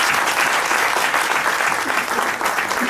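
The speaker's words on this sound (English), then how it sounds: "Can you just clap for Tango, because he's the eye behind this" Steady, dense applause from a full audience at a literary event about women writers, clapping loudly and continuously throughout with no pauses.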